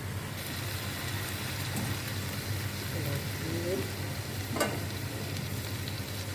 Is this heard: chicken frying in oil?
yes